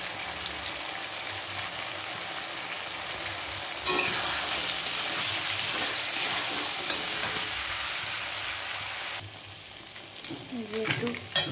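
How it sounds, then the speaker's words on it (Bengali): Ginger, cumin and green chili masala frying in a pan, a loud dense sizzle that swells midway with stirring and then eases, with utensil clatter toward the end. "কাঁচা লঙ্কা মশলা দিয়ে কষাচ্ছি।"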